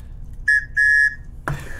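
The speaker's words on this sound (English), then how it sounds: "Of course, you get the survival whistle." A survival whistle built into a USA-made karambit knife, about 7 inches overall, gives two close, shrill blasts, a short one and then a longer held one, before a brief noisy burst at the end.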